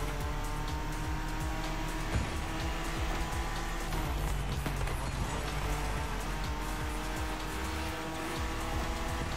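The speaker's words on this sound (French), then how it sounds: "Il y a des beaux bruits de moteur." A BMW M4 Competition races in The Crew Motorfest, its engine roaring continuously and loudly with gear-shift surges and tire noise, no voices over it.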